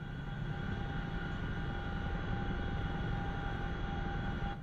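Helicopter in DCS World flight simulator, a steady loud rotor and engine drone with a constant whine, running evenly throughout with no speech.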